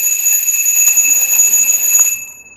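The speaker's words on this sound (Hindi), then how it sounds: "ये घंटी बजना स्टार्ट हो चुकी थी" A remote-controlled motorized bell rings continuously in a rapid, mechanical electric trill, bright and close, then abruptly stops near the end.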